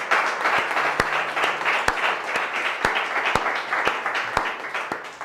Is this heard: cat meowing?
no